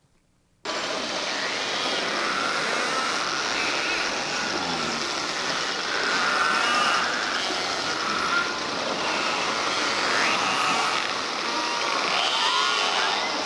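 Underwater recording from Tremblay Sound, a quiet Arctic inlet with very little ship traffic: a steady broadband hiss and rumble with faint tonal squeaks and whistle-like sweeps, continuous at even loudness after a brief silent start.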